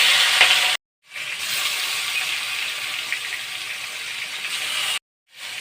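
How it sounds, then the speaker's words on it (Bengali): Sarpunti fish frying in hot mustard oil in a kadai, a loud steady sizzle close by, briefly cut to silence twice, with no talking. "তেল গরম হয়েছে, এখন আমি মাছ দিয়ে এপিট ওপিট করে মাছগুলো ভেজে নেব।"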